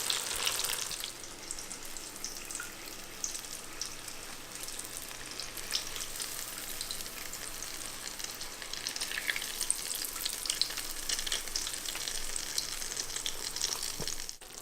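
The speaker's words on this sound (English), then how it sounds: "we're going to go ahead and flip these so they get nicely browned on all sides" Fried brie browning in a pan, with onion jam cooking nearby, makes a continuous close, even sizzle that runs steadily throughout with no voices over it.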